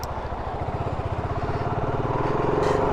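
A BSA Goldstar 650 motorcycle rides out of a village, its engine a steady close thumping that grows gradually louder and faster.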